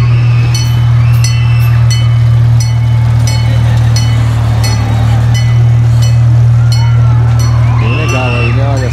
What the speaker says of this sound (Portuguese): Olha o trenzinho.